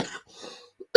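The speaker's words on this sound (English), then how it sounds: "Sorry about this cough." A podcast host coughs once, a short loud burst near the end of the clip, after a quieter stretch of breathy throat sounds and a faint brief noise.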